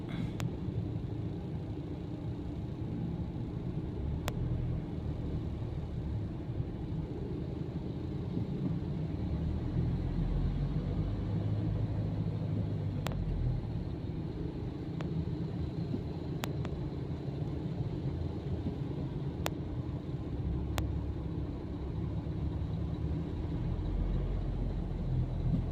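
Slow, nearly stalled morning traffic on a northbound expressway gives a steady low rumble of idling and creeping vehicles, continuous and fairly distant, with a few faint ticks over the drone.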